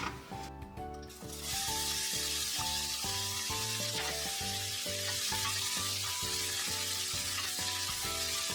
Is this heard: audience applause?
no